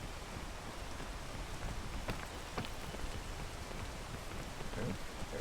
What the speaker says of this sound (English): It's freaking rain, dude.